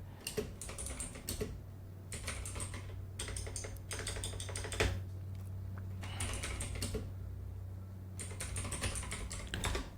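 Computer keyboard typing up close, with steady bursts of rapid key clicks separated by short pauses over a low hum.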